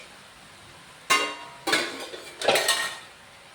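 Vegetable fried rice being tossed and mixed in a metal pan, three separate scraping clanks of a spoon against the pan with short pauses between, close and fairly loud.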